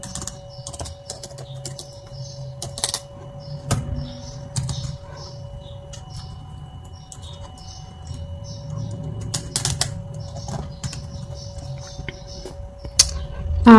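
Keys clatter on the keyboard of a Lenovo ThinkPad T430 laptop being repaired, with scattered close clicks and taps in uneven bursts, over a steady hum and some low background noise.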